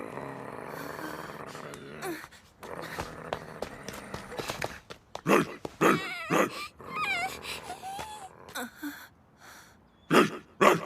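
A dog whimpers, yelps and barks in short bursts, mixed with scuffling movement and footsteps at close range.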